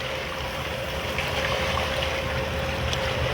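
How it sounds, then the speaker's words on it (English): Hot tub jets churning water into a steady, loud rush of bubbles that fills the whole stretch evenly, close to the microphone, with no talk over it. "Bubbles might be loud."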